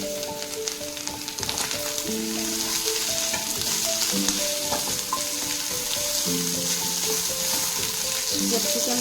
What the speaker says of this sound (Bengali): ক্যাপসিকামটা অ্যাড করে আমি হালকা নেড়ে দিচ্ছি।